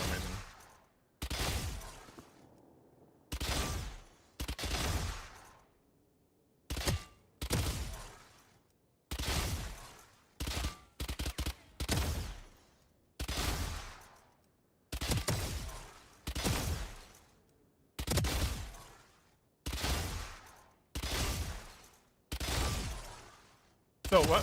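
Repeated bursts of gunfire from a Valorant match, about a dozen short volleys spaced a second or two apart across the clip, loud and crisp with brief silences between, alongside some speech.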